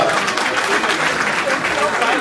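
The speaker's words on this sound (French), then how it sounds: "On peut l'applaudir comme Blaise Kalaba." Audience applause at an emotional gathering, a dense, steady wash of clapping filling the whole stretch at close range, with crowd noise mixed in.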